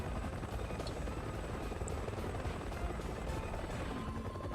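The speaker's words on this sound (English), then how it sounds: "Oh, that's a different helicopter." An enemy helicopter in Resident Evil 6 drones steadily and loudly, its rotor chop continuous throughout with no speech over it.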